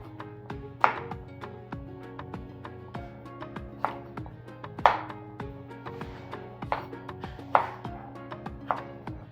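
A knife slices okra on a cutting board with a steady series of crisp chops. Each cut lands as a sharp board tap at a relaxed, even pace, close and clear, with no talking.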